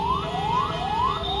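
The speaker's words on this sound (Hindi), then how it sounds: "एम्बुलेंस आ गई है, अब देखते हैं एम्बुलेंस को जगह देते हैं कि नहीं देते।" An ambulance siren wails in a traffic jam, sweeping up in repeated rising whoops, steady and fairly close over a low traffic rumble.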